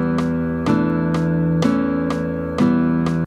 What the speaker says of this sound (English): So the chord progression for Dorian is amazing.